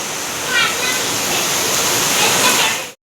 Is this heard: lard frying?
no